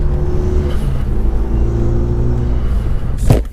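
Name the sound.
Renault Megane RS Trophy engine revving through short shifter gear change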